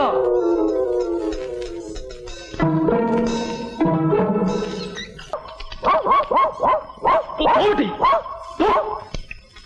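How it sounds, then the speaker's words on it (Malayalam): A dog barks in a rapid run of sharp yelps that follow a stretch of whining, close and loud, with a voice speaking over the first part. "ഇതെന്താ ഈ പട്ടി അവിടെ തന്നെ നോക്കി കുറയ്ക്കുന്നത്"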